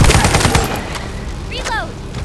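Rapid bursts of automatic gunfire in the shooter game The First Descendant, loud clustered shots at the start fading into scattered pops, with a brief electronic whoosh partway through.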